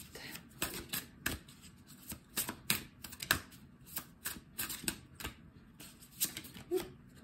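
Heart chakra oracle cards riffled and shuffled by hand in quick, crisp repeated flurries, close and fairly soft throughout.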